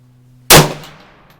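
A single loud, close shot from a Sig 556R rifle fired outdoors: a sharp crack that rings and decays over about a second, with a faint steady hum beforehand.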